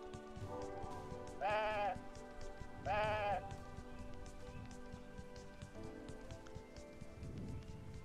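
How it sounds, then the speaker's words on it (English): Two short, clear sheep bleats sound from the video game Woven, spaced about a second apart over a steady rain-like hiss, followed by quieter rustling and faint background noise. "And we also need to scan this sheep."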